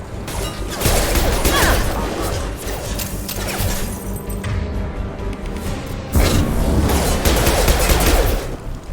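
Rapid bursts of gunfire from the video game Mass Effect 2, loud and close, with dense rattling volleys, a lull in the middle, then a heavy renewed barrage.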